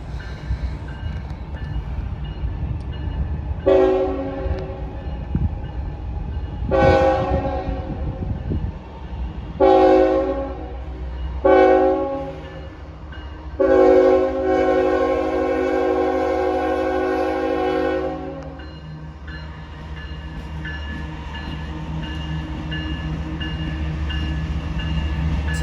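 A CSX freight train, L734, sounds its horn in several blasts (three short and one long sustained) over the steady rumble of the rolling train, which continues after the horn stops.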